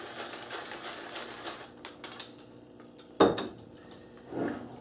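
A spoon stirs baked mac and cheese with bechamel, salt and black pepper in a pot or dish, giving soft scraping and a sharp metallic clink near the end, fairly quiet.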